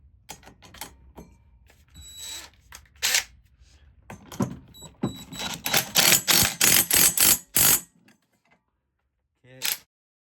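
An impact wrench hammers a flywheel nut onto a 212cc Predator engine: a rapid series of loud, sharp mechanical bursts close up, rising into a dense rattling run, then a final short burst after a pause.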